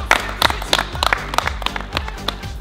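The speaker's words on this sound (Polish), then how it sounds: "brawa dla dziadka" At a small celebration for a grandfather, held during album work, people clap in a rhythmic, close and fairly loud pattern over a low, steady musical backing.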